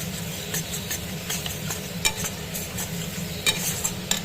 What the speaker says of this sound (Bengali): মশলাগুলো ভালো করে কষাতে হবে